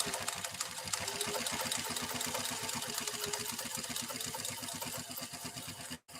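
A Pfaff 332 sewing machine fitted with a quilting needle runs at a fast, even clatter of rapid needle strokes, holding its speed for about six seconds before a brief stop near the end.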